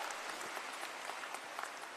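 An audience at a political address in a hall claps together in a dense, faint, sustained patter of many hands, with no voices on top.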